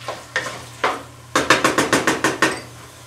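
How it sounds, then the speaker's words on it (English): A utensil stirs green onions in a pan, scraping out a quick series of about a dozen distinct strokes, a few spaced apart then a faster rhythmic run, over a faint steady background hum. "Now I'm going to add my green onions. I'm just going to stir that a little bit."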